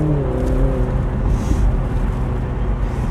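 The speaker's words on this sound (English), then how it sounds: "with that roof down, we've got some really nice exhaust noise as well" Exhaust note of a 2020 BMW Z4 accelerating with the roof down: a loud, throaty engine roar with a rising pitch at the start, then steady rumble mixed with wind and road noise, no voices.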